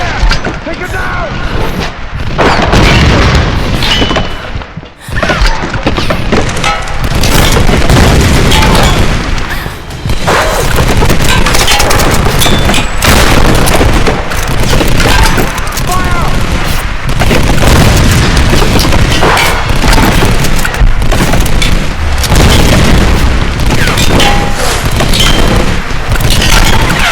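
Grenade launcher blasts in the Tomb Raider video game, a dense run of loud booms and gunfire over a constant roar of battle, with voices in the mix.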